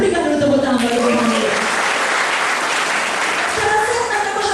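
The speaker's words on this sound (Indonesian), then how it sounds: "berikan dulu tepuk tangan bagi Tuhan" A church congregation claps loudly in praise, a continuous dense wash of applause with voices and music-like tones mixed in underneath throughout.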